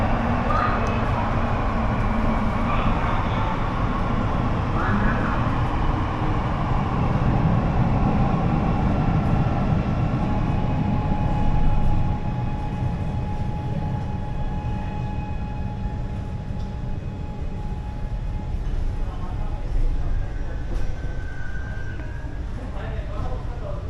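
Mumbai metro train heard from inside the carriage, a steady loud rumble of wheels and motor running throughout, with a voice talking over the ride.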